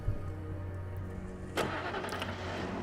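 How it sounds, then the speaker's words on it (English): Car engine in the video game Alan Wake runs with a steady mid-pitched drone, rising with a sudden surge partway through as the game car accelerates, with no talking. "God, this sounds like a freaking RC car."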